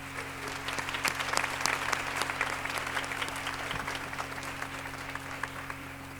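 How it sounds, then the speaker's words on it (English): A room full of people applauds steadily, dense clapping that holds for several seconds before gradually thinning out. "The Honorable Ellen Corbett, would you please give her a round of applause?"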